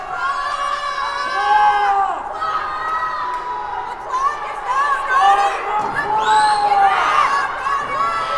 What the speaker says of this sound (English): Crowd is yelling at everybody.